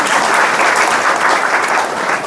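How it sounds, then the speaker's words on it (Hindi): Dense, steady applause from an audience at a spiritual discourse, many hands clapping loudly and evenly throughout with no talk over it. "इन खातिर ताली बजाओ भाई इनकी"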